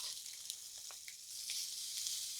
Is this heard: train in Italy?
no